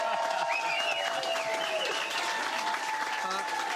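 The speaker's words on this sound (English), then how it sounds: "Hey, a round of applause for Jacksonville's own." Studio audience applause on a live morning news show greets a guest from Jacksonville, a continuous wash of clapping with voices and a whistle-like tone running through it.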